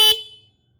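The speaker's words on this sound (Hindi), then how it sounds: "हॉर्न सुनो, हर हॉर्न बहुत कॉस्ट कटिंग करी है इसमें इन्होंने।" A single short honk from the one cost-cut horn on a 2023 TVS Raider 125 motorcycle, a brief bright tone that cuts off quickly and leaves a faint fading ring in a quiet setting.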